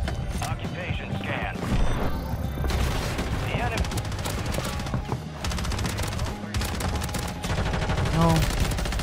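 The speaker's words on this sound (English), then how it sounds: "There's someone sniping me from top prison." Sniper and other gunfire ring out in Call of Duty Warzone on Rebirth Island, a dense stream of shots and bursts through the whole stretch while a player talks over the game.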